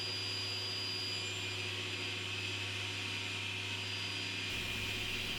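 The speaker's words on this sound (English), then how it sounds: "So I make a cut," A saw cuts box joints with a jig in a workshop, giving a steady, even motor whine and hum that holds without a break and shifts slightly near the end.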